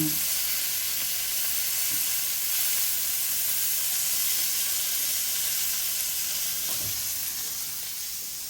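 Prawns fry in a pan for a prawn roast, giving a continuous loud sizzle and hiss with occasional soft stirring knocks, steady throughout without talking.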